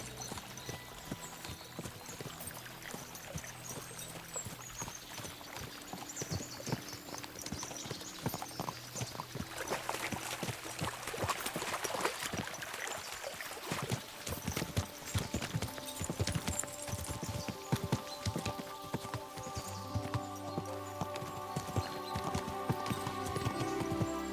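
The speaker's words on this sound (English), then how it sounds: "we'll give the horses a gallop again" Horses' hooves in the medieval video game Kingdom Come Deliverance 2, a steady rhythmic clip-clop of several mounts moving at pace, fairly quiet and continuous, with an occasional whinny.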